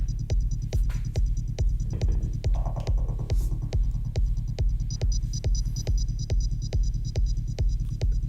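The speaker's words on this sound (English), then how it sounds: "the sub bass is really too thick. It's really too loud." Electronic music track with an overly thick, loud sub bass, heavy low-end throbbing in a steady pulse under regular sharp beat hits throughout, with no voices.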